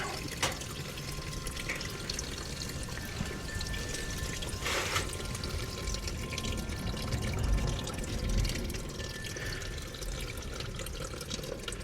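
Engine oil drains from a 2024 Can-Am RT Limited into a pan outdoors with a steady trickling pour, light splatter and wind noise, fairly quiet and continuous.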